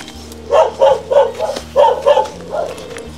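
A dog barks repeatedly in an irregular series of sharp, loud, close barks, about eight in quick succession, with faint background noise between.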